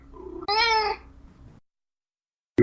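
A cat gives one loud, drawn-out meow up close, preceded by a softer lead-in, followed by near silence and a brief thump at the end.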